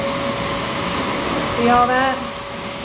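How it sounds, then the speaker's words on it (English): A pet grooming dryer blows on a matted cavachon during a shave down, making a steady whooshing hum close by, with a brief surge partway through, while a person speaks a few words over it. "I'm gonna put this dryer on."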